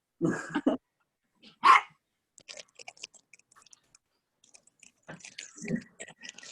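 A small dog gives a couple of sharp barks close by, then goes quiet amid faint rustling and light clicking movement sounds, with a few more soft noises near the end.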